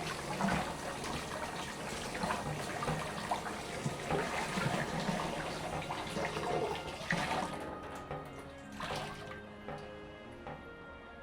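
Running water splashes steadily as a stole dyed with henbit deadnettle is rinsed by hand, a close continuous gush with soft sloshing that thins out toward the end.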